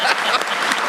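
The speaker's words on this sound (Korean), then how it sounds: "박수 한번 해야지" Applause fills a government ministry policy briefing in honor of the SME ministry's export results: a dense, steady wash of many hands clapping, loud and close, with no voices on top.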